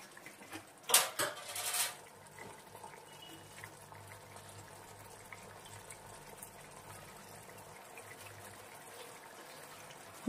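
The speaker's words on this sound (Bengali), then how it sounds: "এরপর আমি এক এক করে গরম জল, কেওড়া জল সব দিয়ে দেবো।" Hot water and kewra water are poured into paneer rezala: a short clatter and splash of liquid near the start, then a faint steady simmering hum.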